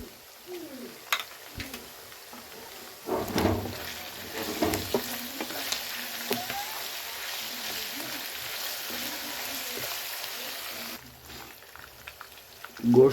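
Chicken karahi meat fries in a pan after garlic paste goes in, a soft continuous sizzle with scattered stirring clatters and a louder burst midway, fairly quiet and without talk.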